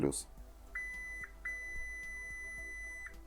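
A multimeter's continuity beep sounds up close while testing a Mechrevo W14 laptop board with a Ryzen 5 5500U: a short tone, then a longer steady tone lasting over a second, with faint clicks underneath.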